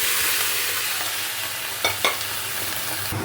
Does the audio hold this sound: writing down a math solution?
no